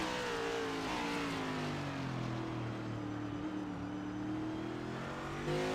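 A race car in a racing video game runs downhill on a road course, its engine note droning and gradually shifting pitch as it holds a steady, loud roar with small rises and dips.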